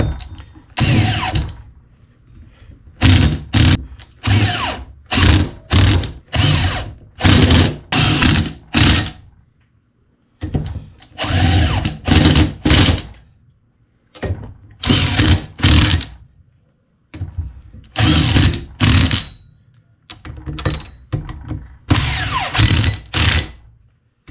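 A power tool runs bolts down in a star pattern during a K-series limited-slip differential install on an RSX Type-S, giving many short, loud, close whirring bursts separated by brief pauses.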